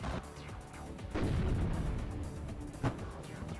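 Bombing run explosions in the real-time strategy video game WARNO, a series of deep rumbling blasts and bursts, with a heavy low boom swelling in the middle and a sharp pop near the end, moderately quiet.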